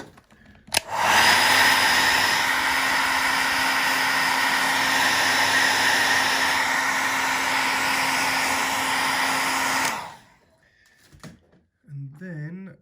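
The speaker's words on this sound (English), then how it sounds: "and then hit it with the hairdryer quickly." A hairdryer blows steadily at close range on a studio-scale Y-wing model for about nine seconds with a constant whirring hum, then cuts off and a voice speaks.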